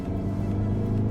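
A petrol Citroen C5 Aircross SUV accelerates hard after a downshift during a drag and rolling race, a steady deep engine rumble heard from inside the car.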